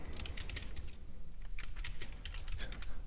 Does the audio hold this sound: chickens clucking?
no